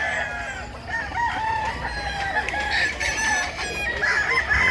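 Many chickens and roosters on a farm in Mantalungon, Barili, Cebu, with repeated crowing and clucking overlapping from several birds at moderate distance against steady ambient noise.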